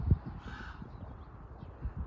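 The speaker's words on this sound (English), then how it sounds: "I think we've angered some birds. They're all over. You can hear them." Crows cawing inside an abandoned house, several harsh calls close by and overlapping at a moderate level, with some faint rustling and no talk.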